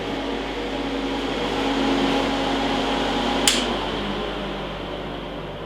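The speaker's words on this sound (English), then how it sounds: "we're going to turn on the first switch here in the back. And this lets the machine warm up." An alternate light source machine warming up just after switch-on gives a steady, fan-like electrical hum with a faint tonal whine, broken by one brief click partway through.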